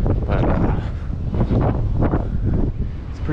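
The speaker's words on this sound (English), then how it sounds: "it's actually pretty windy" Strong wind buffets the microphone in heavy continuous gusts, a loud low roar that swells and dips throughout with no voices.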